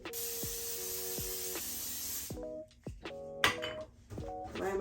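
An aerosol product sprayed onto a lace frontal wig, a steady close hiss lasting about two seconds, followed by clicks and tonal chimes.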